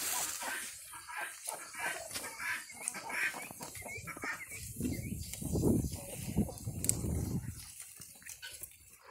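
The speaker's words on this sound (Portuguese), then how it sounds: "Eu vou pegar essa franga aqui, a galinha, né?" Hens clucking and fussing nearby over rustling and handling noises as a laying hen is picked up, with a louder burst of agitated clucks in the middle.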